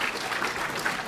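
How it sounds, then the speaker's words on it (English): Lecture hall audience applauding steadily in a short, dense burst of clapping at moderate level, with no speech over it. "if you're clapping this, what will you do in week 10?"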